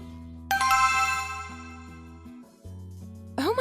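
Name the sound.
mobile phone ringtone ringing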